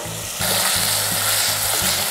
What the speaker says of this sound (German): Die Zwiebeln anbraten.